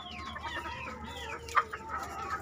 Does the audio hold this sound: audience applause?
no